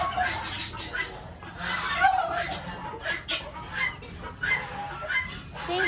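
Geese honk repeatedly on a farm that also keeps heritage chickens, loud irregular calls in bursts over a noisy outdoor background, with voices or chatter mixed in.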